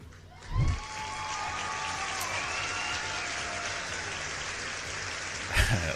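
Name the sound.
applause for quiz winners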